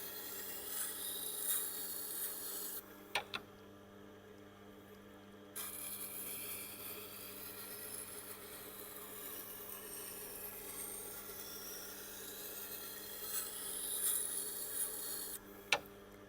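A single bevel Japanese knife ground on a Tormek T8 wet sharpener, a steady soft rasping hum of steel against the wheel that runs almost continuously, with a brief break and a couple of light taps.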